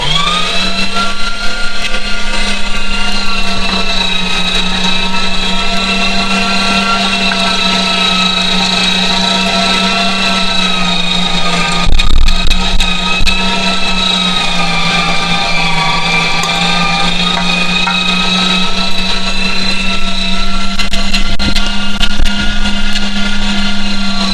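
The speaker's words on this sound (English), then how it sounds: "You've got your grinder. This is a small one upside the one I used to use, and it's going to be loud" A small grain grinder runs loudly and steadily, grinding grain into pig feed, its constant motor drone holding throughout with a brief surge partway through and no talking.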